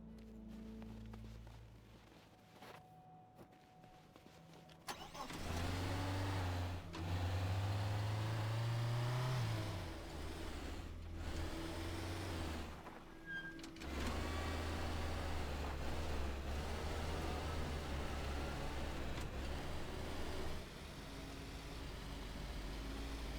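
A car in the game Teardown kicks into life after a brief quiet stretch. A low engine rumble then runs steadily, swelling and easing a few times, moderately loud, with a faint background hum and no talk.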